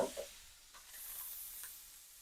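Beef steak meat sizzling on a hot griddle beside toasted buns and onions, a soft steady hiss with a few brief stirring scrapes near the start, faint and close.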